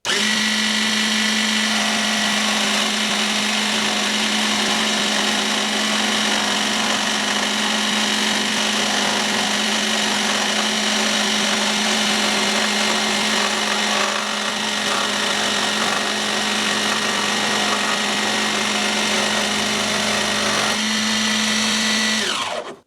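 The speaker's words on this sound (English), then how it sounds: "Let's now test speed 6." Dremel MS20 Moto Saw running at speed 6 while cutting a curved piece, a steady loud motor whine with a constant tone throughout, ending abruptly as it stops.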